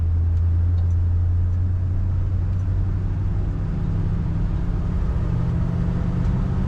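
A 1955 Ford Fairlane Victoria with an automatic transmission cruising along, its engine a smooth, low, steady rumble heard up close throughout.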